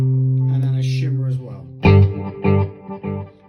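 Electric guitar played through a Blackstar Amped 2 with a shimmer reverb: a sustained chord rings out with shimmering reverb tails, followed by several short plucked notes with a lingering, regenerating wash.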